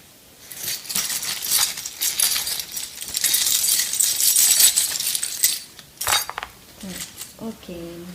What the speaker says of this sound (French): je vais prendre mes petites breloques pour compléter ce tirage.